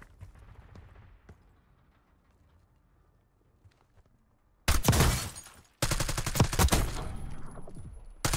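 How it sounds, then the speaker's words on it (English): Heavy gunfire in the video game Warzone, arriving after a quiet stretch as two loud, dense bursts of rapid shots, the second one longer and sustained. "This guy's shooting at me?"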